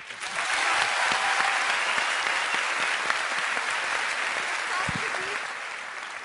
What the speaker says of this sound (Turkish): Sonuçta Ebru Gündeş çok büyük bir alkış.